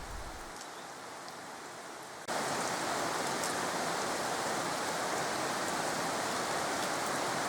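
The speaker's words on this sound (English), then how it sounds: "We have been having rain for quite a number of days" Steady rain falls with a dense, hissing patter that swells louder after a couple of seconds and stays constant.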